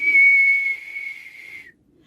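A storyteller imitates a squirrel's whistle: one sustained, high-pitched whistle held steady for under two seconds, dipping slightly in pitch just before it stops, with nothing else around it.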